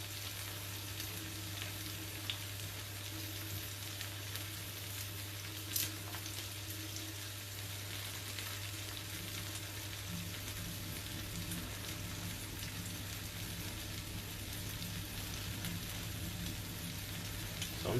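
Fish fillets fry gently in a pan on low heat, a faint, even sizzle with soft crackles and a low steady hum underneath.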